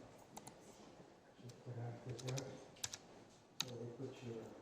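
Keys on a computer keyboard being typed while entering a bill in Appfolio software, giving a scattering of light clicks and taps at low level under and between a person talking.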